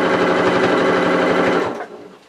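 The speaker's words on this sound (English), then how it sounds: "Keep your fabric flat as you're sewing it." A sewing machine stitching fabric, a loud, close, rapid mechanical chatter running steadily for about a second and a half before winding down and stopping.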